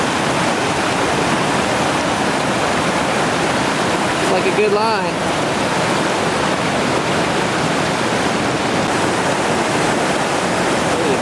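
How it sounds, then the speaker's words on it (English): Steady roar of whitewater at Chainsaw Rapid on the Gauley River at 2800 cfs, broadband and continuous throughout, with rafters and a kayaker working down the waves and a brief voice speaking over the rushing water. "Some more rafters here in Chainsaw Rapid. Working their way on down those waves."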